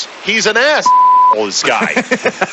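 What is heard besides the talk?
censorship bleep over a swear word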